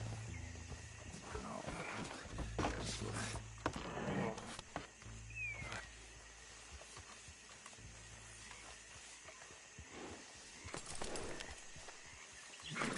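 A horse-drawn wagon approaching in Red Dead Redemption 2, with hoof clops and creaking, rumbling wheels mixed with game ambience at a moderate distance, rising and falling over several seconds.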